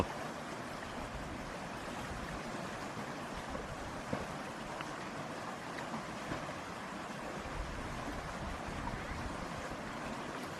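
Waterfall pouring steadily in hilly country during an outdoor campfire chicken roast, a constant broadband rush of water that holds even and unbroken throughout, with no voices.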